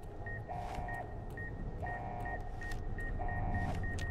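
A radio beeping in Fallout: New Vegas inside the Sierra Madre Vault, repeating short electronic tones in a regular rhythm over a low background rumble, with no talking.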